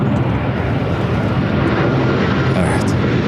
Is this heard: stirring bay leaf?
no